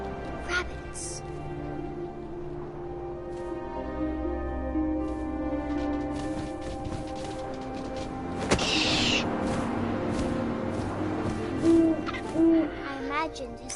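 Owl hooting in a first-person video game scene, deep hoots over a windy outdoor ambience with soft rustling and a brief burst of noise midway, accompanied by faint tonal game music.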